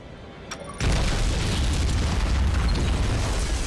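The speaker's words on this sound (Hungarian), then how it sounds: "Ők robbantották fel ezt a tornyot." In the video game Gears of War: Judgment, a tower explodes with a sudden heavy boom after a faint, quiet moment. A loud, roaring blast and rumbling debris follow and sustain to the end.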